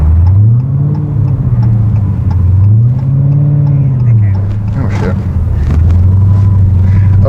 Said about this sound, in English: As you can see, Seattle traffic.